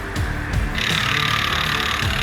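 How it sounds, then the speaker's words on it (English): A power tool undoes screws on a wooden crate holding a Swissqprint Nyala 4 printing machine, making a continuous close whirring drone for the whole stretch, with brief shifts in pitch as it works and no talk. "Alright, so the first screws are being undone."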